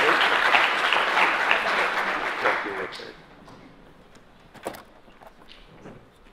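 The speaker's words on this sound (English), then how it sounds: "Where's my applause?" An audience at a legal panel on lawyer civility applauds loudly for about three seconds, then the clapping fades into quiet room sounds with a brief knock near the end.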